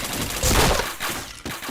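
Rapid gunfire bursts from a first-person shooter game, with dense overlapping shots rising to a loud peak and then firing on in shorter volleys, without any talking.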